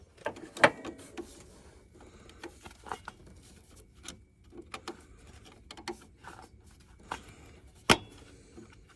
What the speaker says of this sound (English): Let's see if I can get them off with pliers.